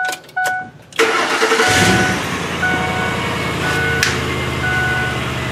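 A car engine with a repaired aftermarket exhaust cranks and catches after a second of quiet, then settles into a steady, fairly loud idle with a low, throaty exhaust rumble.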